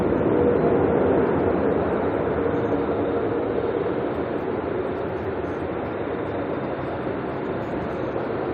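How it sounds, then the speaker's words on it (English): Plane using reverse thrust while landing at Auckland Airport, a steady, loud, broad roar that holds throughout with no talk over it. "you can hear the reverse thrust of that plane though"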